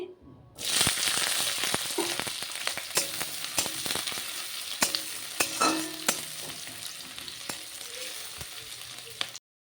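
Chopped onion and four green chillies hit hot oil in a pan for a sweet pumpkin dish, setting off a loud, continuous sizzle with scattered sharp scraping ticks from stirring that runs nearly ten seconds and then cuts off.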